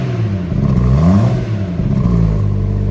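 BMW M140i Shadow Edition six-cylinder engine in sport mode, blipped with light throttle so the revs climb and fall in a couple of short rises, heard close and loud with no talk over it.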